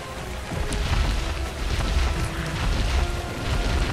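Steady rain falls in the survival game ARK: Survival Ascended on a scorched-earth map, a continuous dense hiss with faint low rumbles running throughout, with no voices over it.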